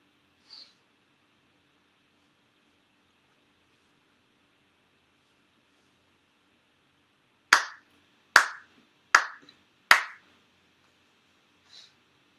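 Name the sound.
four ritual hand claps at a Shinto ceremony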